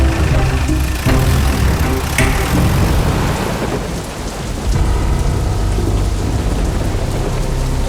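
Heavy rain pours down loud and continuous, with rumbles and cracks of thunder rolling through the downpour.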